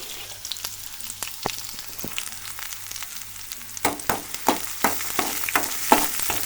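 Small onions frying lightly in a pan make a soft, steady sizzle punctuated by scattered clicks and scrapes of stirring, which grow louder and more frequent toward the end.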